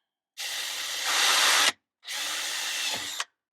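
A power drill bores a 1/4 inch hole for an RO water tube in two loud, steady bursts, each lasting just over a second with a short pause between.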